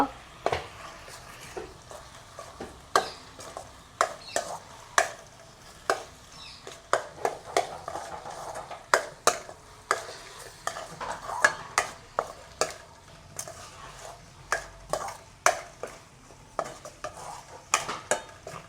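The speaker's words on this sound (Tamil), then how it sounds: "இப்படியே நாங்கள் கைவிடாமல் கிளறி கொண்டிருக்கணும்" A spoon scrapes and knocks steadily against a frying pan while onions sizzle softly underneath, the stirring strokes repeating in an uneven rhythm.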